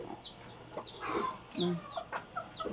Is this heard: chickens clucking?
yes